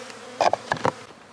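Honey bees buzz around a spring hive, with a few short, close buzzing bursts rising and fading within a second.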